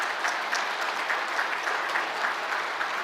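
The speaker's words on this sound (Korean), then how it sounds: "잠깐 자리에서 일어나실 때 우리 큰 박수로 환영하겠습니다." A church congregation at Sunday worship claps to welcome newcomers, a steady, even patter of many hands at moderate volume lasting about three seconds, with no talk over it.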